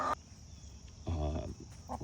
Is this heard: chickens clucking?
yes